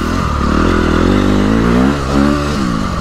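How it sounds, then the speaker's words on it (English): A Honda CRF 250R motocross bike engine runs close up, a loud, buzzy single-cylinder note rising and falling with throttle blips, with a brief surge near the end; no talking. "So this is a CRF 250. CRF 250R, whatever. Motocross bike."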